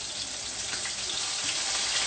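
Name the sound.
fish pan frying in safflower oil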